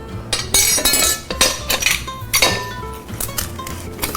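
Irregular clinks and clatters of a masher knocking repeatedly and loudly against a bowl while mashing boiled potatoes, with no talking.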